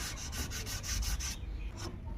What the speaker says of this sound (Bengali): সবগুলোতেই পুরো ঘষে নিতে হবে